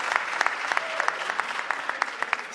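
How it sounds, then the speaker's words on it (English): An audience at an event in the Capitol claps in brisk, steady applause, moderately distant and unbroken for a couple of seconds. "can you give a big round of applause to SCORE for having this wonderful event today?"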